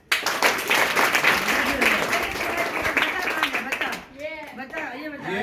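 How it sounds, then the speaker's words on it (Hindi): Audience at a school prize-giving bursts into sustained clapping for a first-prize winner, loud and dense, with voices talking over it before the applause thins out near the end. "तालियां बजाएं।"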